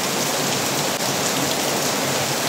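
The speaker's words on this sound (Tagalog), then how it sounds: "Ayan po, napakalakas ng ulan, no?" Heavy rain pours steadily, a dense, loud and unbroken roar of drops on surfaces with no voices over it.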